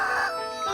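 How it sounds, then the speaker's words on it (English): A chicken at a livestock site in Colorado lets out a single brief, loud, nasal call close by, lasting under a second with no talking. "a bunch of livestock, including murderous chickens"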